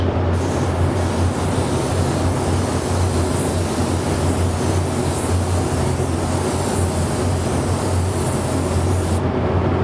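Spray gun applying an orange sealer finish coat over candy paint, a loud steady hiss running unbroken and close throughout, with no talking.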